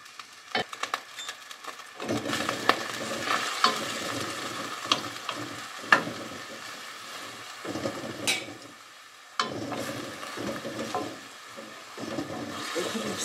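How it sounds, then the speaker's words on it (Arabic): Chopped onion and garlic sizzle and fry in hot oil, a crackling hiss broken by stirring scrapes and brief pauses throughout. "غناخذ البصلة وندير تشحر في هاد الزيت."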